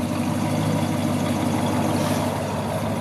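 1966 Chevrolet Caprice with a 396 big-block engine idling, its exhaust giving a steady, deep, close burble with an even low pulse throughout.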